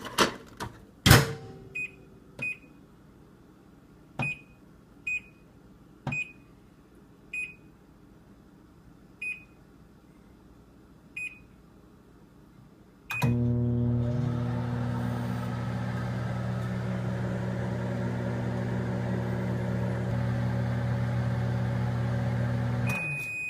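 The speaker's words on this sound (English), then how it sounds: "we're just going to chuck these in the microwave for exactly 1 minute" A microwave oven runs for about a minute heating pieces of raw chicken, starting with several sharp keypad beeps followed by a steady, loud mechanical hum with a faint whine that carries on alone.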